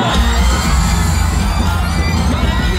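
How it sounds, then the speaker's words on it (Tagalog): A large outdoor crowd at a political rally in Tondo, Manila, greeting the Vice President's arrival, roars with loud continuous cheering, shouts and whoops, a dense nearby wall of noise. "palakpak at sigawan!"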